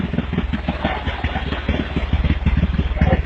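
A small homemade tractor powered by a Bajaj Caliber motorcycle engine runs close by, a steady rapid single-cylinder putter with rhythmic pulses and light mechanical clatter, alone without voices.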